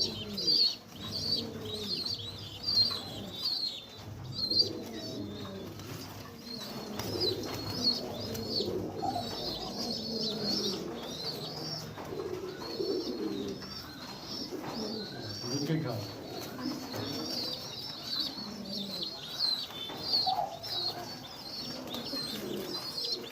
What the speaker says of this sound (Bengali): তোমরা দেখো, কবুতরটা